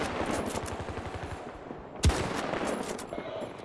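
Gunfire in a firefight in the video game Battlefield 2042, with a distant rattling stream of rapid shots and one loud sharp bang near the middle.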